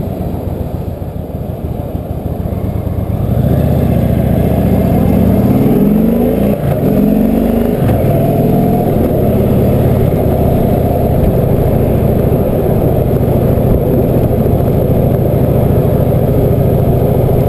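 Indian Chieftain motorcycle engine heard on board while riding, a loud continuous rumble that builds after a quieter start, with gear changes and rising and falling revs under steady wind and road noise.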